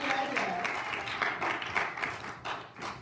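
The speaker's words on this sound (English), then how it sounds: "Now give Jesus another great big cheer if you will." A church congregation cheers and applauds together in a dense, continuous wash of clapping and voices that holds steady for a few seconds, with the crowd sounding close and full.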